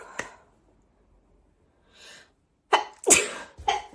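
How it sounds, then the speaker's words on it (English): A woman's sneezes: a short gasp, a pause, a quiet intake of breath, then two sharp close sneezes in quick succession with a snorting finish, and no talk. "I really freaking have to sneeze."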